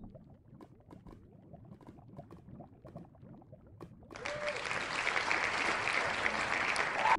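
Clapping and cheerful music break out in the video game Minecraft, a dense wash of applause arriving suddenly midway after quiet footsteps and clicks, staying steady and fairly loud to the end.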